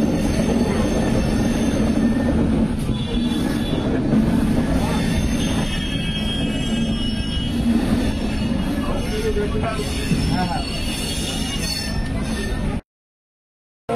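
Shalimar–Puri Dhauli Express train rounding a turn, steady loud rumble of wheels on rails with metallic squeal and clatter heard from inside a carriage, continuous until an abrupt cutoff near the end.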